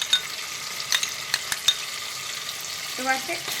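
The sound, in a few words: frying and stirring spice masala with yogurt in a pan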